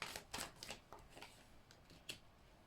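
Tarot cards being shuffled by hand in a quiet room, a few soft, quick riffling bursts close to the microphone with pauses between them.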